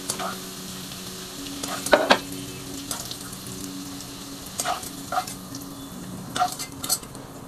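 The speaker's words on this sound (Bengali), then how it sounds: "আলুটা খুবই অল্প সময়ের মধ্যেই ফ্রাই হয়ে গিয়েছে" Potatoes frying in oil crackle in a pan while a metal spoon stirs and lifts them out, producing several sharp clinks and scrapes against the cookware over a quieter steady sizzle.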